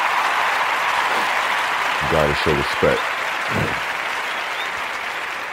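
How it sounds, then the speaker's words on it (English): A studio or live hip hop radio crowd applauds for two performing artists, with steady, dense clapping throughout and someone briefly speaking over it midway. "Another round of applause for them."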